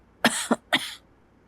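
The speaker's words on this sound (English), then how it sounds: "I have a bad cough." Three quick, close coughs in a short burst, then quiet.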